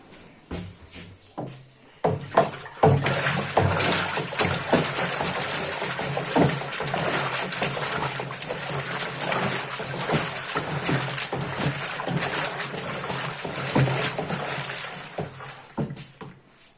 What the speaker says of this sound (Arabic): ودلوقتي هنضيف بقية الصودا ونقلبها كويس جدا